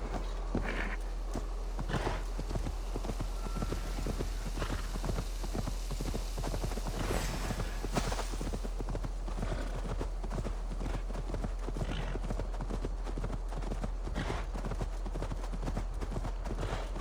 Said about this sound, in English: Go on, horsey.